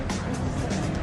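A BMW 6 Series on a test drive with the sales staff at the wheel: a steady, loud rush of engine and road noise that holds level for the whole second, with no voices.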